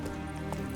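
Hooves of a horse in a video game clip-clop in a quick short run under a steady, tonal game soundtrack, faint and brief.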